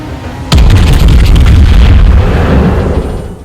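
A heavy gun salvo from the Tier 7 German battlecruiser Prinz Heinrich in a naval battle game, one loud booming blast that hits at once and rumbles on for a few seconds before fading.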